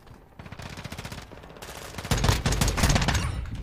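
Rapid automatic gunfire from a weapon in Modern Warfare 2, played in third person, rattles in steady bursts that grow louder and denser toward the end, close and continuous.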